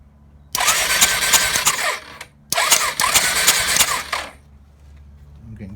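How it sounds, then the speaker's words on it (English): Starter motor on a Suzuki SV650 motorcycle cranking the engine in two loud, steady bursts of about two seconds each with a short pause between, close by, without the engine catching. "I'm getting good spin off that starter motor now"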